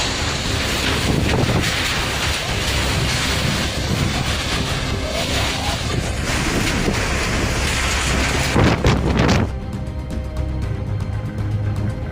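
A severe thunderstorm with rain and strong wind, up to 102 km/h, roaring as continuous loud rain and gusty wind buffeting the microphone, then dropping suddenly to a quieter steady rain near the end.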